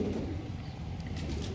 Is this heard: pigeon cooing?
yes